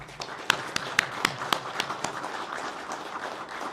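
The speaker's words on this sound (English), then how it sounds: "Give them a big round of applause, please" Scattered applause from a small crowd at a graduation ceremony, with distinct sharp claps near the start that thin out into softer, sparse clapping.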